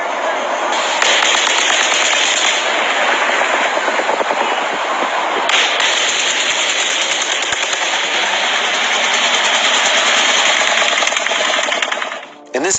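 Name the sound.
distant automatic gunfire in recorded audio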